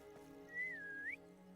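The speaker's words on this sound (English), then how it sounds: "That was the shittest whistle I've ever heard in my life." A single short whistled tune in the video game Hogwarts Legacy wavers up and down then rises at the end, quiet over a low steady hum.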